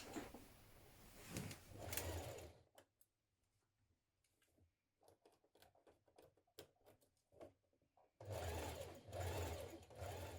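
A sewing machine runs in two steady bursts at the start and end, stitching gathered ruffles in place on a boho-style dress, with quieter ticking and handling sounds of fabric between; no talking.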